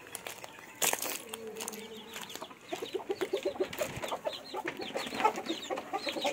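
Free-range chickens cluck in a rapid, uneven series close by, with a louder squawk early on and a person talking faintly beneath the birds.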